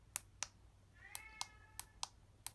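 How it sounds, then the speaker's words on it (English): A house cat meows several times in the background while short, sharp clicks tap out at irregular intervals, all fairly quiet and close indoors with no one speaking. "my cat is meowing in the background"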